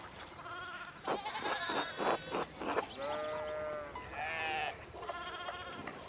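Sheep bleating in the game Pentiment, several wavering close bleats in a row with short choppy calls first, then longer drawn-out cries over a soft background.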